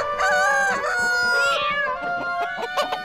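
A rooster crows loudly and close by, a long, harmonically rich call with a rising and falling sweep, followed by a few clucking notes.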